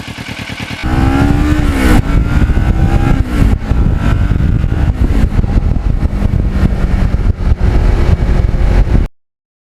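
A Kawasaki Ninja motorcycle with lowered forks is ridden, its engine droning loud and close, rising in pitch as it accelerates with shifts and wind rush until the sound cuts off abruptly.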